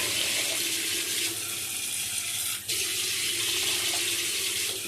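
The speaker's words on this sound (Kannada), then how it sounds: "ಸ್ವಲ್ಪ ನೀರು, ಬೇಯಲಿಕ್ಕೆ" Water pours steadily into a cooking pot holding radish, onion and tomato for sambar, a close continuous splashing rush that breaks off briefly midway before resuming.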